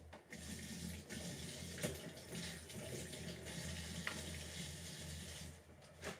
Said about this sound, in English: pop a little bit of water, not much, just to free up the blender